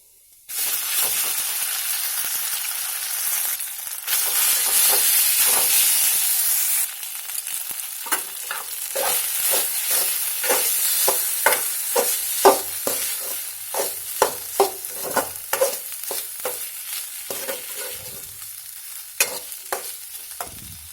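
Rice stir-fried in hot oil with cumin and red chili powder for a tricolour pulao, opening with a steady loud sizzle, then a run of sharp scraping and stirring strokes against the pan over continuing frying hiss, with no talk.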